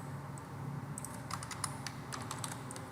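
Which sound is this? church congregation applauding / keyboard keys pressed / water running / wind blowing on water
keyboard keys pressed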